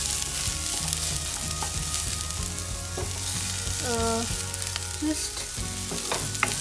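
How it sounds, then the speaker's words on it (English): Broccoli sautéing in a pan for cheesy pasta with tomatoes, a loud continuous sizzle broken by spatula scrapes and clinks, with background music and a brief spoken word. "cook saute broccoli till it becomes tender"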